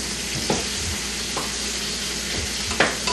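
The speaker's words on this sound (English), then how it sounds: "I have my rice in the pan that I'm kind of browning just a little bit with the 2 tablespoons of butter" Rice browning in two tablespoons of butter in a pan on a home stove, a steady soft sizzle with a few louder stirring scrapes at intervals, close and without talk.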